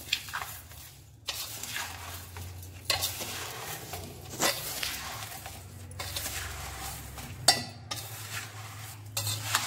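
Lime pieces being stirred with salt for a sweet lime pickle in a metal bowl, with repeated scraping and clinking of a spoon in an uneven rhythm, close and fairly quiet, with no talking.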